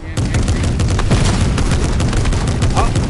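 Gunshots in Fortnite during a no-building team fight, a dense, continuous stream of rapid close shots and impacts, loud and unbroken for a few seconds, with a voice talking over them.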